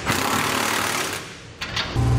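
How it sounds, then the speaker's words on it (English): A power tool snugs down trailer hitch receiver bolts on a 2016 Chevrolet Silverado 1500, giving a loud, steady mechanical buzz up close. It dips briefly, then starts again just as strong. "Now we're able to go ahead and snug down the remaining hardware."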